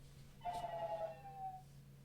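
A mobile phone rings once with a clear electronic tone over a steady low background hum, fairly quiet and alone with no talking.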